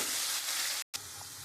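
Ground tomato and ginger paste hitting hot oil in a pan, a loud, dense sizzle with one brief break before the hiss continues.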